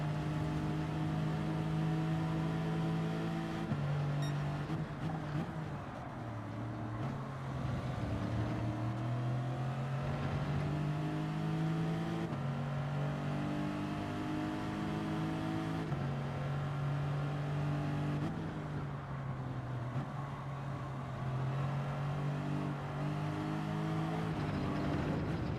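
Race car engine in the Gran Turismo 7 video game during a Nations Cup race, droning steadily with pitch rising through gears and dropping on shifts, loud and continuous for the whole stretch with no talk.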